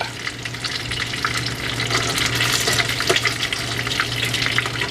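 Green tomatoes sizzle and fry in a pan, a steady crackling spatter with occasional louder pops and a low hum underneath, close and continuous.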